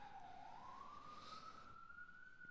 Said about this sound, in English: this siren won't stop